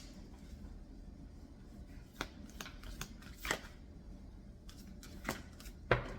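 A deck of tarot cards is cut and shuffled, with soft riffles and sharp card snaps spread over several seconds, faint and close, with no talking.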